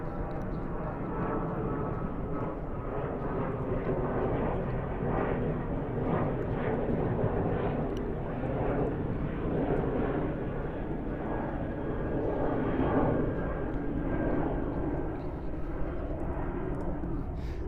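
A Boeing 777-200 airliner at JFK airport gives a steady, broad jet engine roar that holds at a constant level throughout, distant and even, with no clear speech over it.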